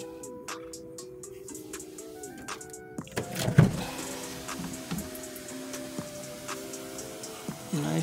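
The power moonroof of a 2011 Toyota Camry runs with a steady electric motor whine, stopping and starting in several short runs with faint clicks, close by and moderately loud.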